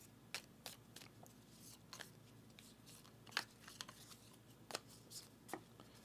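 Cards from the board game Pharaon being shuffled by hand on a table, a quiet run of soft riffling snaps and taps at irregular intervals, close but faint, with no voices.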